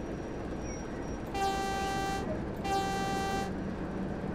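Class 09 diesel shunting locomotive horn in Train Sim World on the West Somerset Railway, two loud steady blasts of just under a second each over a quiet idling engine.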